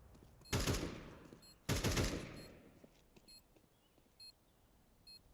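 Short electronic bomb beeps repeat at intervals after two loud bursts of gunfire in a competitive esports match, the beeping fairly faint beneath the fading shots.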